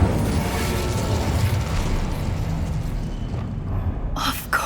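An Incendio fire spell roars in Hogwarts Legacy, a dense, loud crackling whoosh of flame that sustains for several seconds, then trails off and ends in a couple of sharp bright pops.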